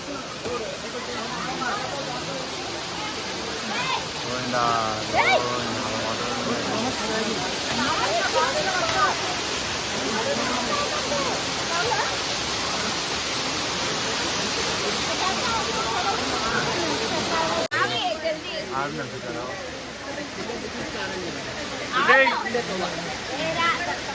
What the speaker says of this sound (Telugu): గైస్ వాటర్ చూడు ఎట్లా వస్తున్నాయి పైనుంచి